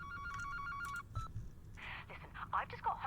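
Telephone tones ringing in a sequence of steady beeps, then choppy electronic sounds, with a voice talking faintly in the background.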